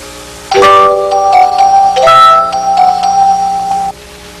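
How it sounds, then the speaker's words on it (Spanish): Soft, chiming bell-like notes from a celesta play a short melody, sweet and sustained, starting with a struck chord and fading out after a few seconds. "Se llama celesta y suena así."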